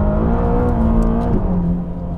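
A Ferrari Roma engine runs loud and close in a continuous throaty drone, its pitch rising and then dropping slightly partway through as it revs, with no other sounds on top.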